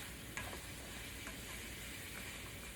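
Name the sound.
vegetables and tofu stir fry cooking and being stirred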